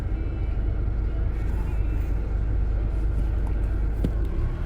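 A Chevy Malibu with a brake pedal that locks up rolls along and brakes to a stop, giving a steady, close, loud road rumble with no clear squeal.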